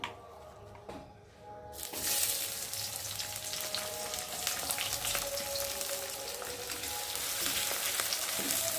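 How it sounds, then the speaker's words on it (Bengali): Onions dropped into a hot wok burst into a loud, continuous sizzle after a brief quiet moment, holding steady and close to the end, with no talk. "কড়াটা গরম হয়ে গেছে, আর এখন আমি পেঁয়াজগুলো দেবো, ভালো করে ভেজে নেবো আগে পেঁয়াজ দিয়ে।"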